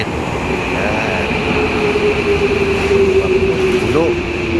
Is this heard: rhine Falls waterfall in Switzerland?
no